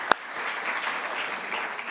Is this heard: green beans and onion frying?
no